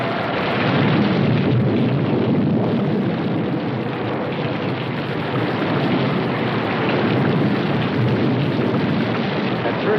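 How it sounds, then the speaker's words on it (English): Heavy rain pours in a dense, unbroken roar for the whole stretch, with low rumbling that could be thunder mixed in, loud and close with no voices. "We didn't pay much attention to the rain, though it seemed heavier than any rain we'd ever seen."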